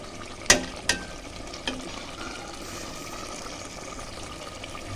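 Rice stir-frying with meat in a pan: a steady soft sizzle underneath, punctuated by a few sharp metallic clinks of the spatula early on, then continuous quiet frying.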